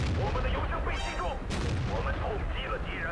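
Tank cannon fire in World of Tanks, with loud booming shots, one sharp blast standing out midway, over a continuous rumble of battle and a voice commentating throughout.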